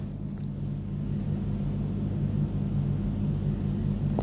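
A passenger airplane's engines rumbling as the plane begins to move, a steady low droning roar heard from inside the cabin, continuous and unbroken, with no speech.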